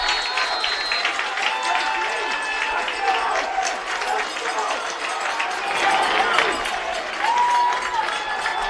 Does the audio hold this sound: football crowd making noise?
yes